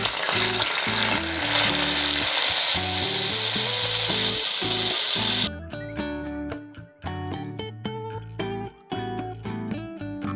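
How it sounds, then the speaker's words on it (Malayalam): Moong dal roasting in ghee gives a loud, close crackling sizzle with occasional stirring scrapes, then the frying cuts off abruptly about halfway, leaving only rhythmic background music. "ഇനി പരിപ്പിട്ടിട്ട് ഒരു ചെറിയ ഗോൾഡൻ കളർ ആവുന്നവരെ നമുക്ക് മൊരിയിച്ചെടുക്കാം"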